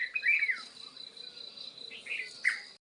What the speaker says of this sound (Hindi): ये अमरूद के पेड़ में दूसरी चिड़िया बोल रही।